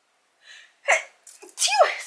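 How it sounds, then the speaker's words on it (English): A person sneezes indoors, close to the listener: a soft breathy build-up, then a sharp sneeze burst and a second louder explosive sneeze. "Oh, I'm gonna sneeze."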